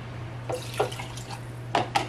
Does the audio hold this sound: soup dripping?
yes